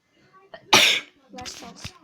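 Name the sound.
sneeze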